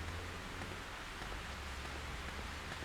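Steady rainfall from the video game Fatal Frame 3 forms a constant hiss of dense patter, even and unbroken throughout, with no talking.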